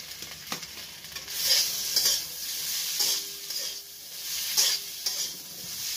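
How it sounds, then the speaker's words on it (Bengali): Mixed vegetables with turmeric, spice powder and curry leaves for a Sindhi curry are stirred in a hot pan, giving a close, steady sizzle with rhythmic scraping spoon strokes every second or so, without speech. "তো এইগুলো সব ভালো করে নাড়াচাড়া করে দেব।"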